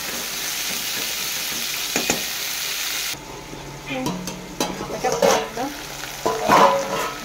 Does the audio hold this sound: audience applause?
no